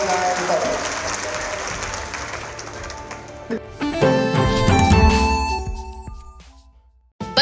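Applause greets Rajesh Rana at a Teli community oath-taking ceremony in Sitapur, a crowd's clapping mixed with loud stage music and voices that builds, peaks, then fades out abruptly.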